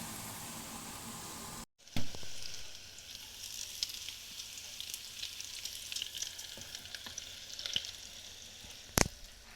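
Cutlets sizzle and crackle steadily in a hot pan, with occasional pops and a brief clatter near the start.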